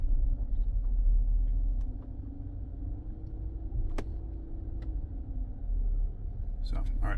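A 2016 car with a slipping transmission drives along after the fault code is cleared, with a steady low engine and road rumble under a voice.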